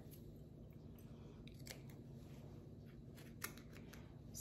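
Scissors make several quiet, scattered snips while trimming the back of a Halloween pumpkin wire frame craft, faint and close with small crunchy cuts.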